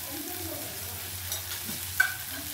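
A tomato mixture cooking down to a paste is stirred in a frying pan, giving a soft, steady sizzle with faint scrapes and one brief clink, close and low in level, with no speech.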